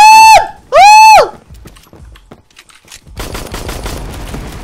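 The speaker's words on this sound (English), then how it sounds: "It's a P90 and it can reach that far." A P90 submachine gun fires in a video game: a short burst of rapid, loud shots near the end, after two sweeping tonal cries at the start.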